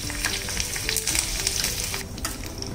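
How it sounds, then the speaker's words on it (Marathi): Fenugreek seeds, red chilies and curry leaves sizzling in a little hot oil in a pan for a sambar tempering, giving a loud, continuous crackling fry with bursts of spattering and stirring noise close by. "2 चमचे तेल घेतले, त्यात अगदी पाव चमचा मेथी दाणे घालायचे, 2 लाल मिरच्या घालूया आणि थोडासा कढीपत्ता घालायचा"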